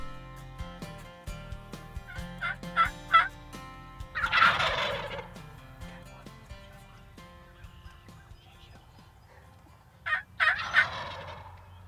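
Wild turkeys gobble in a field near a hunting blind, with a big tom's loud, rattling gobbles rising in two bursts plus softer clucks and yelps nearby, over quiet outdoor background.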